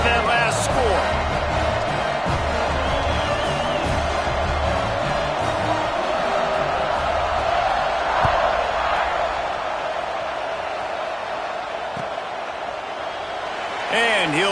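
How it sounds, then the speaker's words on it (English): Steady stadium crowd roar from the NCAA 26 college football video game after a touchdown, a dense continuous buzz with tonal commentary-like voices over it and a brief swell of cheering near the end. "this crowd is buzzing after that last score"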